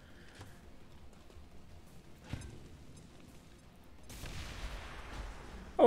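A claymore explodes in the strategy game XCOM 2: a low, muffled blast swells partway through and leaves a sustained rumbling wash, with a sharper burst right at the end. Quieter scattered game noises come before it.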